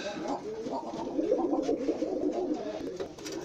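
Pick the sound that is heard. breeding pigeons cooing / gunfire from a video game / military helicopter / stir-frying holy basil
breeding pigeons cooing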